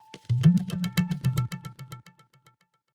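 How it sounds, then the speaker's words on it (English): A quick tabla fill, a rapid run of about a dozen crisp strokes over a deep resonant bass tone, thinning out into a few softer taps at the end, close and alone. "So this one tabla fill here specifically is very interesting because I've used it quite a few times."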